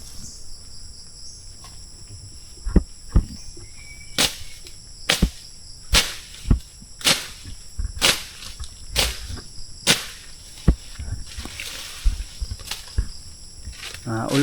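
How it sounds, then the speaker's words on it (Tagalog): Steady high-pitched cricket chirping runs throughout, with sharp clicks and snaps at irregular intervals over a quiet outdoor background. "Nahuni na ang kuliglig."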